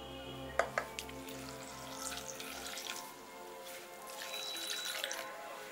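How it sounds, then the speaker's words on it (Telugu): Water is poured into a pressure cooker holding toor dal and turmeric, a soft, steady trickling pour with a faint hum early on, quiet overall. "1 కప్ ఆఫ్ కందిపప్పుకు నేను 2 గ్లాసులు నీళ్ళు పోసుకుంటున్నాను"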